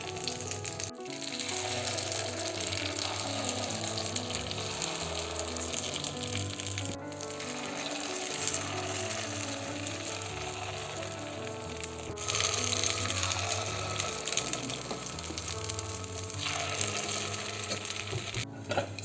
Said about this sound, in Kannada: ಸ್ವಲ್ಪ ಸ್ವಲ್ಪ ಹಿಟ್ಟನ್ನೇ ಪಡ್ಡು ಪ್ಯಾನ್ಗೆ ಹಾಕ್ಕೊಳ್ಬೇಕು